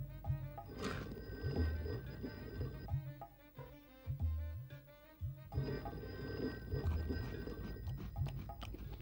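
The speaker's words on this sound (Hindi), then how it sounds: "ये खाते वक्त फोन की घंटी क्यों बजने लग जाती है?" A telephone bell rings in repeated bursts over a busy background of music and other sounds from a Hindi TV superhero series, fairly loud throughout.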